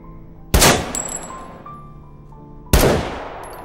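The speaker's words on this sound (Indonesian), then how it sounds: "terus-menerus gagal menembak targetnya" Two loud, sharp gunshots about two seconds apart during shooting practice inside an empty building, each followed by a reverberant echo that fades slowly.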